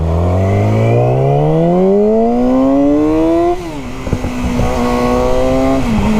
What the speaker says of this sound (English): we are riding a 600 Super Sport. This is the Yamaha R6 2007 model